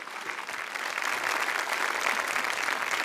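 Sustained audience applause for a panel of political journalists, a dense, steady wash of many hands clapping that swells slightly and holds at full strength throughout, with no talk over it.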